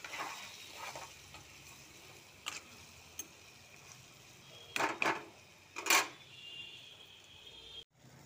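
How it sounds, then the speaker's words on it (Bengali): Boiled potato and pumpkin stirred in a cooking pan, with faint soft scraping and a few brief, louder clinks and scrapes of a utensil against the pan over a quiet background hiss. "সুন্দর করে নাড়াচাড়া করে দিচ্ছি।"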